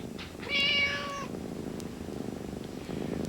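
A cat meows once, clear and close, in a TV commercial, followed by a quiet background hum.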